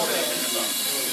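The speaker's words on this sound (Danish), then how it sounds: "vi bruger en dampmaskine, der sprøjter 100 grader varm damp ind igennem og dræber alle uønskede mikroorganismer" A steam machine blasts 100-degree steam into a brewing bucket to pasteurize it, a loud, continuous broadband hiss that stays steady and close throughout.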